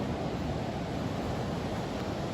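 Sea waves on a warm day with little wind give a continuous broadband rush of surf, even in level and steady throughout, with no voices.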